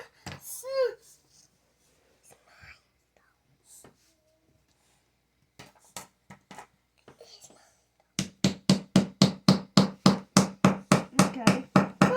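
A hammer repeatedly strikes a large chunk from a gemstone dig kit, about a dozen steady, sharp knocks close by, after scattered quiet whispers and handling noises.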